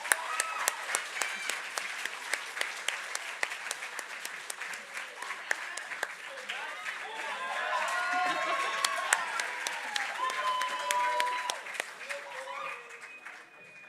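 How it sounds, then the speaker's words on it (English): Applause and cheering for a Silver Award winner at a school awards ceremony, sustained clapping with whoops and shouts swelling in the middle before tapering off, fairly close and lively. "I love that Max has his own cheering section"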